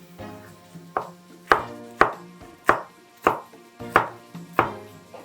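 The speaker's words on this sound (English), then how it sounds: "And then I'm just going to slice that through." A knife chops through a green pepper on a cutting board, seven or eight sharp, evenly spaced cuts landing close and clear with nothing else behind them.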